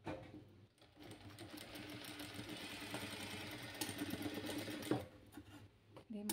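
A sewing machine runs steadily as it stitches the raw edges on both sides of a puff sleeve for a western frock, a close, continuous mechanical whir lasting several seconds before stopping, with a brief pause and restart near the end.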